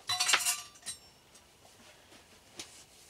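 A spoon clinking against a bowl while slaw is mixed, a quick cluster of bright close clinks at the start, then a few faint scattered taps.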